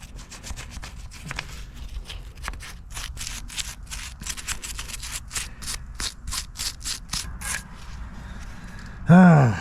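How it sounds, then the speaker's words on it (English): A scrub brush works over grime on a Pontiac 350 engine in fast back-and-forth bristly strokes, close and steady, ending with a short burst of louder noise. "I picked up a scrub brush too, so I can get into some of those nasty parts"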